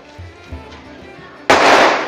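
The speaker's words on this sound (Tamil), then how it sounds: "ஆ வெடிச்சிருச்சு" A single loud, sharp firecracker bang bursts out during Diwali celebrations after a stretch of soft background noise and faint talking, then rings with a crackling hiss.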